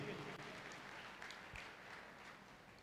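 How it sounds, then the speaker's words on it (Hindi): Applause from an audience at a network marketing motivational talk, a steady, fairly faint wash of clapping lasting a few seconds. "एक बार जोरदार तालियां सक्सेस सपोर्ट सिस्टम के लिए"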